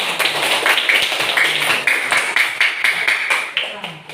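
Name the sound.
classroom clapping for a pupil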